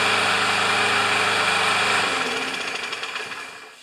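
A small Powermore lawn mower engine runs with a steady buzzing drone and noticeable vibration, then revs down and fades over the last couple of seconds, close and alone with no talk.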